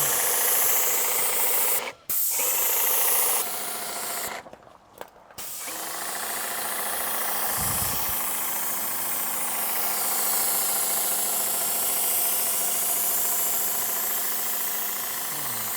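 A paint sprayer putting a coat on a surface, a steady broadband hiss running nearly throughout, cut by a few short pauses early on and a brief low thump, then continuing evenly and close.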